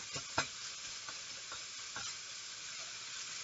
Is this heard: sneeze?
no